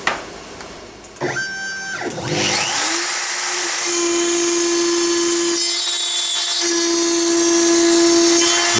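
An X-Carve CNC router with an upcut bit cuts 4mm plywood at high speed, its spindle spinning up to a loud, steady whine with shifting tones and cutting noise, close and continuous, no talk.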